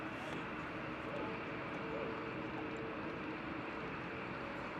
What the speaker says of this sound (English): Next departure, Aer Lingus. A320 Neo heading back over to Cork in Ireland